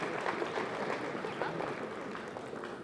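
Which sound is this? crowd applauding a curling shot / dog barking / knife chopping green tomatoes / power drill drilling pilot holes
crowd applauding a curling shot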